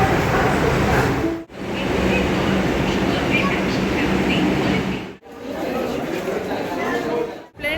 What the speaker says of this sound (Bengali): মেট্রো বেরিয়ে গেল এখন দাঁড়ায় পাঁচ মিনিট আবার পরে আছে